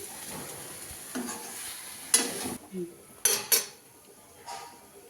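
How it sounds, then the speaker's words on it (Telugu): Chicken pieces frying in oil for chicken pickle, with a low sizzle beneath several sharp metal clinks and scrapes of a utensil against the pan. "దీన్ని అయితే ఆయిల్లో ఫ్రై చేస్తున్నాను"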